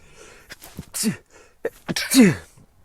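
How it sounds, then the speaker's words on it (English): A couple of sharp, breathy sneezes close by, the second louder and more forceful, separated by quiet pauses. "If there was a cut there, I just sneezed."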